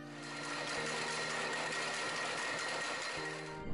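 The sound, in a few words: braiding machine weaving rope strands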